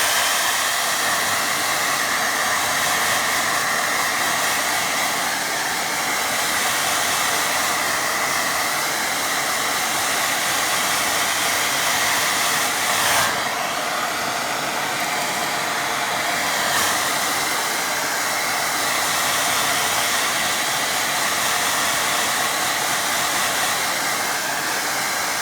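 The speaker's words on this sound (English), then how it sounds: "I'm going to dry that" A hair dryer blows steadily on a freshly painted lake watercolour, a continuous close airy whir with a brief shift in pitch midway.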